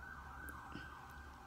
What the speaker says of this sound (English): I knew a siren was gonna go off